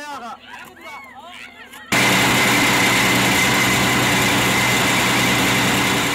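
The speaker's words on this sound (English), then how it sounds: "The drilling is done by this rig." A water-well drilling rig's engine starts up abruptly and runs loud and steady with a rough, heavy rumble, following a quieter stretch of background sounds and chirps.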